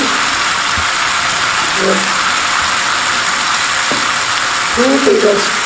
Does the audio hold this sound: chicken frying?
yes